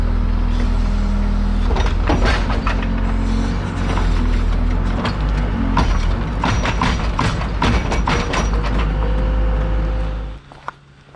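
Backhoe digging a long cable trench, a loud continuous diesel engine drone with clanking, ratcheting mechanical knocks throughout, close by, cutting off near the end.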